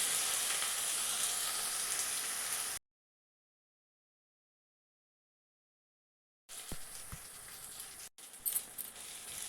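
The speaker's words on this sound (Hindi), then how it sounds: "और प्याज को डालने के बाद इसे हमें चला चला कर हल्के भूरे रंग का होने तक का प्याज को भून लेना है।" Chopped onion and black cardamom sizzle in hot oil with a steady frying hiss, cut off by a few seconds of silence before the sizzling resumes with faint stirring clatter.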